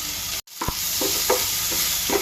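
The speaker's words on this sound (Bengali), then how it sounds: "রসুনগুলো ভাজা নিচ্ছি" Chopped onion and garlic sizzle loudly in a frying pan after a brief cut in the sound, with a steady hiss punctuated by several rhythmic scraping strokes of a spatula, close and alone.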